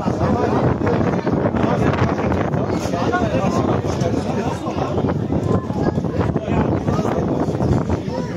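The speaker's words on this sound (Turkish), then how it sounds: "Rüzgar şiddetini iyice arttırdı." Heavy wind buffets the microphone in a continuous loud rumble at an outdoor football match, with indistinct voices partly buried beneath the roar.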